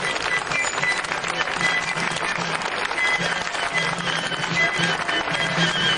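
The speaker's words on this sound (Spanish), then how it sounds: "un aplauso a todos ellos" Dense, continuous outdoor applause from a crowd honouring the troops at a historical reenactment in Vigo, steady and fairly loud throughout with no speech over it.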